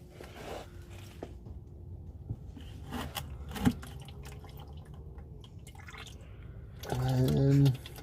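Used engine oil drains from a loosened oil filter into a bucket below, a faint trickle and sporadic drips under background noise, ending in a louder gurgling splash.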